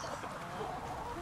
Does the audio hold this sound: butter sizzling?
no